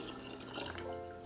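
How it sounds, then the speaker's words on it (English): Cooled sugar syrup for blueberry lemonade is poured into a pitcher, giving a short, soft liquid trickle and splash that stays quiet and close, with no talking. "Once the syrup has cooled, go ahead and pour it into the pitcher."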